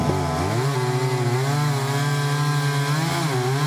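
A chainsaw cuts through a large flame tree stump, its engine droning loud and steady at close range with a slight rise and fall in pitch as the chain bites the wood.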